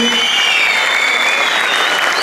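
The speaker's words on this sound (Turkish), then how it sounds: "Tekrar bir teşekkür için başkanımızı alkışlayalım" An audience at a municipal health event in Altınordu applauds the mayor, a short burst of dense, even clapping from many people, loud and continuous throughout.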